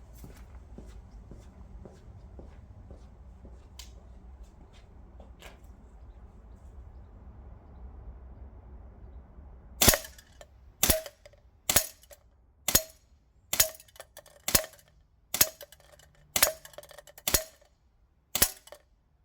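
Maruyama B&T SPC9 gas blowback airsoft pistol-caliber carbine firing at 15 meters: about a dozen sharp, loud cracks at a steady, evenly spaced rhythm following a quiet stretch of low background noise.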